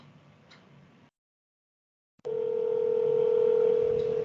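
An intercom master station rings with a steady electronic tone that starts abruptly after a brief silence and holds loud and unbroken, following a faint hiss of background noise.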